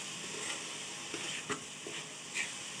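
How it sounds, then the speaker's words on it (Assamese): Grated coconut roasts in a pan for coconut laddoos. Occasional soft stirring scrapes sound over a faint, steady sizzle, all quiet and close. "নাৰিকল লাড়ুখিনিৰ কাৰণে মই নাৰিকলখিনি ভাজি আছোঁ।"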